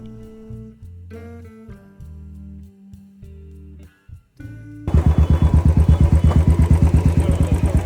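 A motorcycle on a road trip rumbles into motion after a stretch of music, its engine loud and close with a rapid, pulsing putter that continues steadily to the end.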